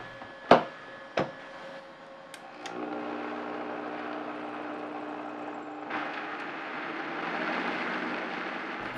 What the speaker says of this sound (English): And now it's time to pull out the blender.